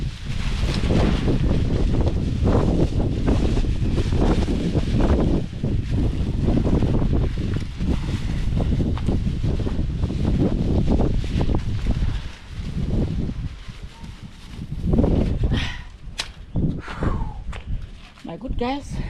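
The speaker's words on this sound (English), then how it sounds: "But we did it even though it's windy." Strong wind gusting through an outdoor backyard during trash removal, a steady roaring rush with microphone buffeting that stays loud throughout, with some rustling and footsteps mixed in.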